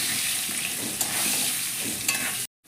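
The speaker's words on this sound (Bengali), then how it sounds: "লবণ আর হলুদ দিয়ে আলুটাকে লাল লাল করে আমি ভেজে নেব।" Potatoes frying in oil with salt and turmeric, a steady loud hiss with light stirring scrapes, cutting off abruptly near the end.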